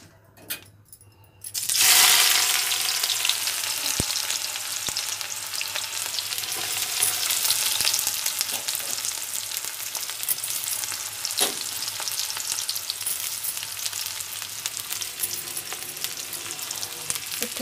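Onions frying in hot oil for an Odia egg curry, a loud steady sizzle that bursts in after a quiet start and crackles on continuously and close, with no talking.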